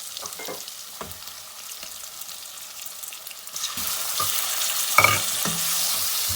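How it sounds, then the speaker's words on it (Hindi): Chicken pieces and browned onions sizzle in a pan with intermittent scraping stirs. The frying is soft at first and grows louder and brighter in the second half, where a few clanks are also heard. "अब इसके अंदर हम लोग चिकन डाल देंगे।"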